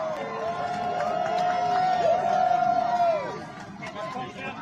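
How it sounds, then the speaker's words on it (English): Crowd at a May Day protest cheering arrests, a sustained swell of shouting and cheers from many voices with chatter mixed in, one long loud tone running through the middle before the noise drops back. "Everyone who's gathered here is cheering for every arrest that's been made."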